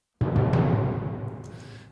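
Floor tom recorded, pitched down and distorted to imitate timpani, a single deep booming hit that swells and rolls on with a gritty, saturated sustain, loud and close, fading slowly over two seconds.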